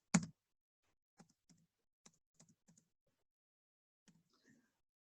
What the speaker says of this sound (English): we have to retype it